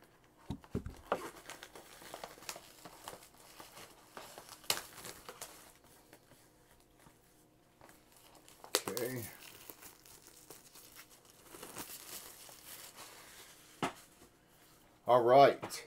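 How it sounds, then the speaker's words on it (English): Plastic shrink wrap being cut and pulled off a four-LP box set, heard as scattered crinkling and tearing bursts with quiet gaps, close by, ending in a louder rustle. "So let me go ahead and cut the wrapper here."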